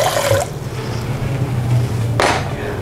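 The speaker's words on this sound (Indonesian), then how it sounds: "Kita mau siapkan air dulu untuk merendam potongan nangkanya." Water poured into a bowl to soak pieces of jackfruit for gudeg, splashing in two louder bursts with a softer trickle between them.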